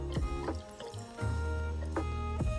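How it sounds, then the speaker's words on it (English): Milk pours into a glass of iced matcha with a gurgling, rising fill, broken by brief pauses and a few clinks of ice near the glass, and no one speaks. "Fill the rest of your glass up with milk."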